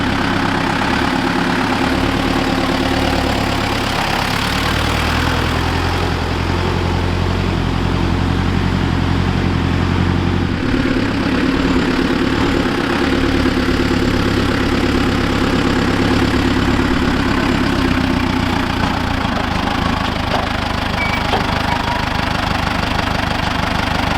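A Deutz 6006 tractor engine runs steadily while grading, a continuous low, throbbing diesel drone with a slight knocking rhythm, close and loud throughout with no talk.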